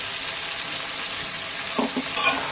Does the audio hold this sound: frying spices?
yes